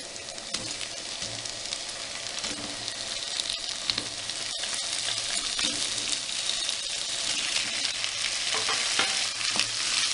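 Chicken sizzles steadily in hot oil in a pan for an achari chicken dish, with scraping stirs throughout, loud and continuous with no talk.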